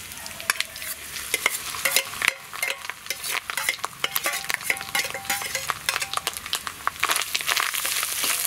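Coconut frying in a pan with popped mustard seeds and curry leaves, a steady crackling sizzle with sharp spits and pops and repeated scraping of a stirring spoon, close and busy throughout with no talking.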